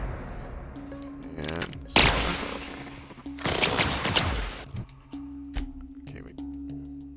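Assault rifle fire in The Outer Worlds video game, two loud broadband bursts of gunfire around a steady game tone, with a voice talking over the action.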